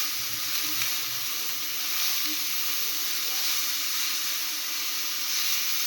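Grated carrot for carrot halwa frying in ghee over a medium flame; a continuous, close sizzle and hiss that holds steady throughout with no talking.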